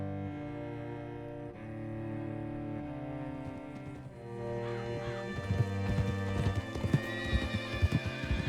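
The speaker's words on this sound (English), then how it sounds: "Hitch your horse up here." Horse hooves clip-clopping with a loud whinny, out in the open world of Red Dead Redemption 2; steady hoofbeats continue under background music, growing busier and louder toward the end.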